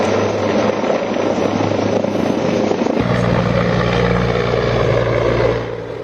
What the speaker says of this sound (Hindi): हेलीकॉप्टर्स उनका सर्च ऑपरेशन कर रहे हैं पहाड़ियों में।